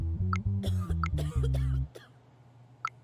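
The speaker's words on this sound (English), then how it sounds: "Get that person out of here who's coughing." Short coughs and throat clearing come from a courtroom scene in the game JudgeSim, heard over low, blocky synthesized music notes that stop partway through, leaving a quiet room tone.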